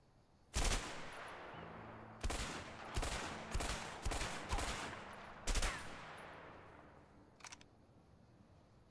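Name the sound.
gunshots in video game A Way Out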